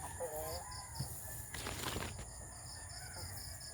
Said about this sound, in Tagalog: habang tayo po ay naglilibot sa aking maliit na manukan.